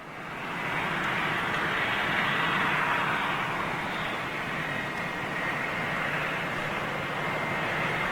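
A jet airliner takes off at Madrid Barajas airport in thin, hot air on a long takeoff roll. Its engines make a steady, broad roar that swells in the first second and then holds loud and continuous, with no voices.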